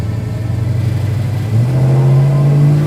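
A 1970 Dodge Charger R/T built as a Fast and Furious replica idles with a deep, loud rumble, then its engine revs up and holds a rising, steady roar close by.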